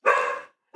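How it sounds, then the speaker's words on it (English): A single loud dog bark close by, a sharp full burst followed by a short silence and the start of a second bark. "So that's my dog."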